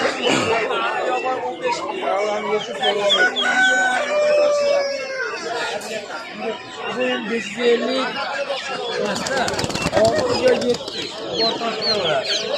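Chickens at a crowded outdoor poultry market, with a rooster crowing and hens clucking among steady chatter, loud and near, while people talk over the birds throughout.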